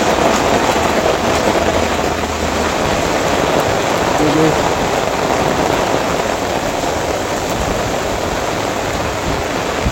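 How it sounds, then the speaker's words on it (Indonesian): Heavy, steady rain pouring down in Kuala Baru, Aceh Singkil, a dense continuous hiss that stays loud throughout, with a faint voice briefly underneath. "Hujan guys."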